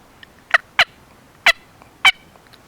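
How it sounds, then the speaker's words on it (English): Combo cut turkey call making clucks and cuts, four or five sharp, close, loud yelping notes in an uneven rhythm with short gaps between them. "I like clucks and cuts with this combo cut"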